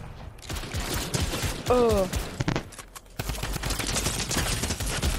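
Bursts of rapid gunfire in the video game Tilted Wars, loud and close, with a brief pause in the middle, while a player makes a short exclamation and talks over the shots.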